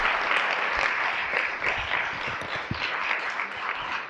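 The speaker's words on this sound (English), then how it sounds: "Another round of applause." A board meeting audience in Oakland County applauds students in a steady, dense round of clapping that fills the room, moderately loud and continuous throughout.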